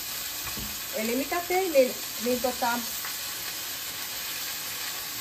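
Chicken frying in a hot wok gives a steady loud sizzle that runs the whole time, with a person talking in Finnish over it partway through.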